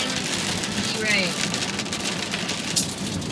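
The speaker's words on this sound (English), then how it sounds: "It is raining. It is pouring rain." Heavy rain pours outside, a dense steady patter of drops on surfaces heard from inside a car, with a voice speaking over it and a few brief louder splashes.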